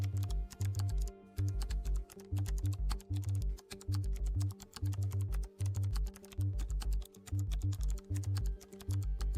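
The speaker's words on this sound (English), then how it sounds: "Okay, typing it in." Fingers type on a computer keyboard, a fast irregular clatter of key presses in short bursts with brief pauses, close and clear with no talking.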